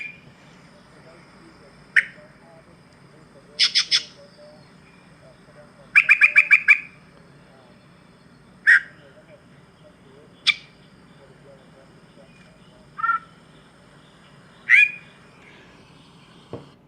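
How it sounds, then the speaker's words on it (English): A yellow-breasted chat sings in scattered bursts: sharp whistles, rapid stuttering notes and harsh squawks, separated by pauses over a soft background hiss. "I'm going to let you listen what a yellow-breasted chat sounds like."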